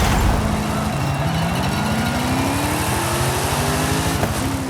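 A rally car in the racing game Forza Horizon 5 drones loudly and steadily, its engine pitch climbing gradually as it accelerates and shifts, with no talk over it.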